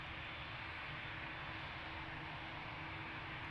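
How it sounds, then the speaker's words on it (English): An easyJet Airbus A320-200 arrives at London Gatwick, giving a steady, broad jet engine roar at a distance with no breaks. "Qatar being held for this latest easyJet arrival in from Geneva on an A320-200."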